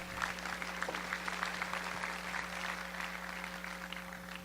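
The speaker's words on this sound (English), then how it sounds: "let's give a warm round of applause once again to Matt" Audience applause at a conference, a dense patter of many hands clapping steadily at a moderate distance, continuing evenly with a constant electrical hum beneath.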